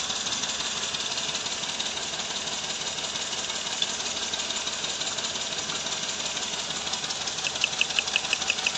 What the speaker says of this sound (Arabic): هكا ما يشتغل، ما تشوف الموتور كاي ديراطي.